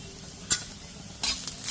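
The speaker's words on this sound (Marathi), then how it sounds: "आता एक चमचा पांढरे तीळ टाकते, अगदी थोडेसे धणे" White sesame and coriander seeds sizzle with coconut in a hot pan, a faint steady crackle broken by a couple of brief scraping stirs.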